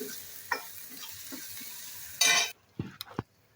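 Masala spices sizzle and crackle in a hot pan for an aloo matar sabzi, stirred steadily, with a louder scraping burst of stirring near the end followed by a few metal clinks.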